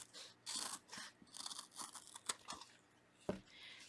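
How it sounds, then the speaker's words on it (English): Scissors snip through a pink scrubby yarn, giving close, quiet crunchy cuts and rustles in several short bursts, with a sharper snip near the end. "I am actually going to cut the scrubby in half"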